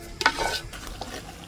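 Christmas dodol being stirred as it fries in oil in a pot: close scraping and sloshing stirring strokes over a soft, steady sizzle, with no talk.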